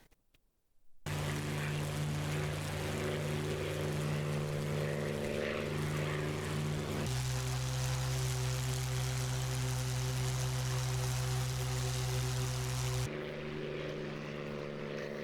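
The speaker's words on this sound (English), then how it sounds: "Here comes our Mustang pilot." A P-51 Mustang propeller warplane drones loudly past in the flight sim DCS, its engine tone steady, then shifting lower midway and fading slightly at the end, with no voices.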